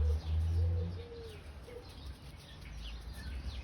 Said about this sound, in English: Oh, it's all the sparrows coming now.